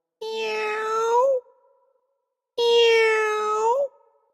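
A single voice imitates a cat meowing twice, each call drawn out for about a second with a short pause between, clear and close with no background noise.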